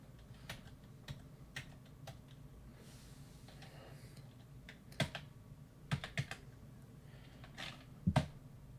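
Computer keyboard keys are pressed one at a time while controls are set up for an emulated Game Gear racing game. The clicks are sparse, fairly quiet and irregular, with a few louder clusters of taps.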